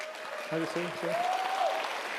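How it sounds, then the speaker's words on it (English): A brief burst of conference audience applause fills the hall, mixed with a few voices and a faint whistle-like tone rising over the clapping. "come up on stage here to get a well-deserved round of applause"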